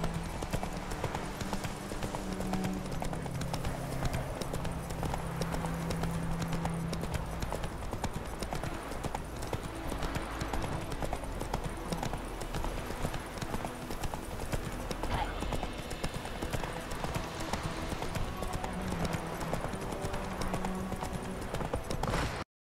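Horse hooves clip-clop steadily through a long stretch of galloping in The Witcher 3, constant and moderately loud under game music and ambience, with a brief whinny and some voices.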